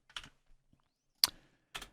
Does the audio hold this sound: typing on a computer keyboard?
yes